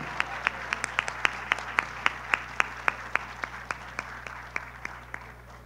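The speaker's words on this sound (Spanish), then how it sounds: "Fuerte el aplauso." Steady, evenly spaced claps ring out at an awards ceremony in Valledupar, a few crisp hand strikes repeating at a measured beat over a low electrical hum.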